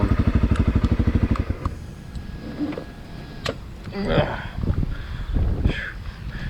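A Honda CRF450L motorcycle in enduro mode runs with a rapid, pulsing engine beat up close for the first seconds, then fades under wind buffeting and clattering noise.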